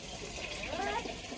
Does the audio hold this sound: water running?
yes